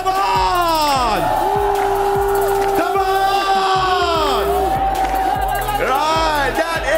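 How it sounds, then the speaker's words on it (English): Arena crowd at the Free Fire grand final, an esports event, whooping and cheering loudly over booming music with swooping, sliding tones, and an announcer's voice rising above the din. "Everyone, cheer for your team."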